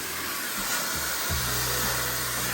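A Laifen Swift Professional hair dryer runs with a loud, steady high-speed whir, its airflow tone shifting slightly as a setting changes partway through.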